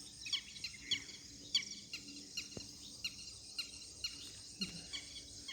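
Small birds chirp in the morning in an open area with a few houses and empty plots, with faint, rapid chirps repeating steadily at a distance and no voices.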